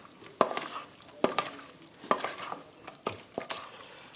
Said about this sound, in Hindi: अब मिक्स करते हैं।